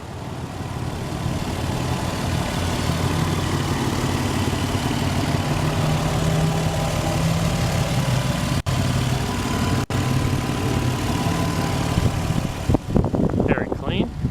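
A 1998 Lexus ES300 with a 3-liter V6 idles steadily with the hood open, a continuous low hum with two brief dropouts and rustling handling noise near the end.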